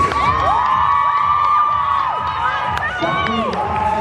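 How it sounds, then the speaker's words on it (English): A crowd at a physique and bikini competition show cheers and shouts loudly and continuously, with whoops and a dense wash of voices filling the hall. "can we have a round of applause for your bikini short"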